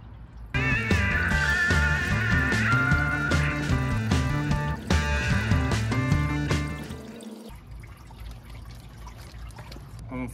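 Coolant flush water is poured from a gallon bottle into a Honda D16 engine block, a close, continuous gurgling trickle with ringing bottle resonance. The flow weakens and stops near the end, leaving faint background noise.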